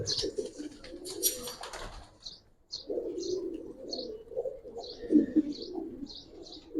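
Giribaz pigeons coo in a loft, low rolling calls throughout, joined midway by a run of short, high chirps repeating at a steady beat, fairly close.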